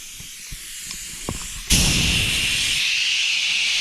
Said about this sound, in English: We'll turn our brake fluid sucker on